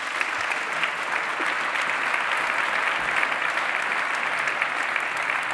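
Warm applause from a large audience at a Geneva business awards ceremony, a dense steady wash of many hands clapping, loud and even from start to finish.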